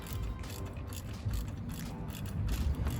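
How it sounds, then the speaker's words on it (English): A ratchet wrench snugs up a nut while fitting a fender eliminator on a Triumph Street Scrambler motorcycle, giving a quiet, close run of rapid clicking pawl ticks over a low background hum. "just snug that nut up"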